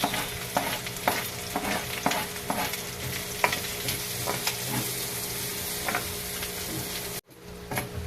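Garlic and onion frying in a pan, a steady close sizzle broken by repeated scraping strokes of a spatula stirring, ending with a brief drop in sound.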